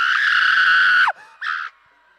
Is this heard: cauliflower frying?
no